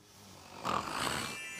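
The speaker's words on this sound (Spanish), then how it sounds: "¿Quién está roncando?" Snoring from sleeping figures in a children's craft show, a single drawn-out, breathy snore that rises in the middle and holds fairly steady at moderate volume, with no talk over it.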